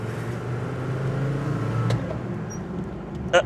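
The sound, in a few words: Mercedes G-Wagon engine driving and shifting gears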